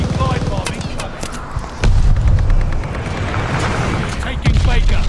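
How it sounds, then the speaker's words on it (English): An enemy glide bomb explodes in a Call of Duty: Vanguard Domination match on Hotel Royal, a heavy boom landing amid continuous loud battle noise and gunfire, with in-game voice callouts over the mix. "Enemy glide bomb incoming!"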